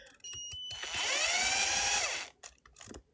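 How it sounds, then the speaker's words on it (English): A power drill whirs as it winds memory wire into a spring coil for a pearl bangle. The whine rises to a steady high pitch for about a second, then cuts out, followed by a few short, faint sounds. "we use the drill"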